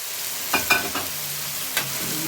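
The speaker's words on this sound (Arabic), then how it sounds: "هنزل بالطماطم ثانيه واحده" Tomatoes go into meat frying in a pot for a one-pot Saudi kabsa, bringing a soft sizzle and three or four quick clattering stirs and knocks, close and alone without talk.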